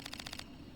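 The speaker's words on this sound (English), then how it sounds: "Every hit sounds like a gunshot" Sharp weapon hits from the video game Vagrant Story that sound like gunshots, a rapid run of about six crisp cracking impacts in quick succession, then quiet.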